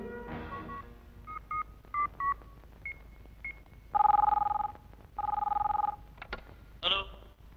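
A telephone number dialed in a film scene: a rapid burst of keypad tones, then distinct spaced beeps, followed by two long ringback tones and a final high chirp, clear and close with faint talk.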